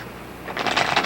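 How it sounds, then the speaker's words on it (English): Playing cards shuffled on a kitchen table: a quiet lead-in, then a close, brisk riffling burst of flicking cards that lasts about half a second. "The old kitchen table shuffle's not going to work. If you've been shuffling like this"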